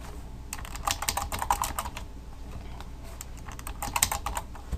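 Rapid typing on a computer keyboard, close and crisp, with dense bursts of key clicks and short pauses between them, no talking.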